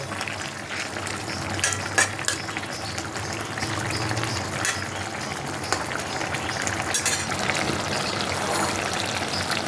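Raw pumpkin curry simmering in a pot on a gas stove after a little sugar is added, a steady bubbling and sizzling hiss with occasional stirring clinks, close and continuous.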